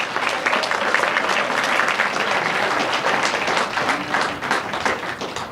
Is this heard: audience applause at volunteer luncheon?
yes